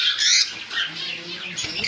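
A yellow Fischer's lovebird squawks at a bird shop, a few sharp, shrill, close calls in quick succession with brief gaps between them.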